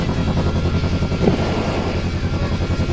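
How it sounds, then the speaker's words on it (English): Steady, loud helicopter engine and rotor drone from the DCS flight simulator video game during an autorotation landing, continuous with no talking. "to put the helicopter down"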